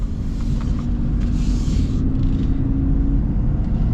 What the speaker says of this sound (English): this Power Stroke has no trouble moving these tires